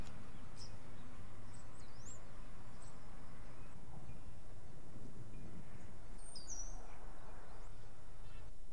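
Birds singing outdoors, a few brief whistled chirps and calls scattered over a steady low rumble of wind or distant traffic, faint and far away.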